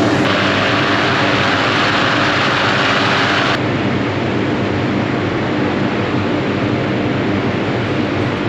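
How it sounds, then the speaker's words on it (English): Burners on hot air balloons firing together at a launch site in Luxor, Egypt: a loud, continuous roaring rush that stays steady throughout, noticeably stronger and brighter for the first few seconds before settling into a slightly duller roar. "all the engines started exactly the same time"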